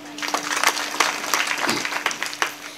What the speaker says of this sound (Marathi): वाजवा ना टाळ्या